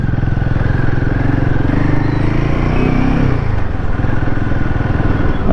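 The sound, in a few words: adventure motorcycle riding, Himalayan 450 or Scrambler 400X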